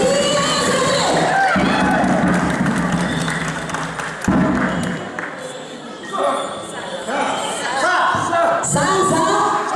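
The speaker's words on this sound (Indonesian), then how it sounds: "Boleh kasih tepuk tangan yang paling meriah." Audience at a Minahasa cultural inauguration ceremony applauding and cheering loudly for a newly elected chairman, a dense wash of clapping with voices mixed in throughout.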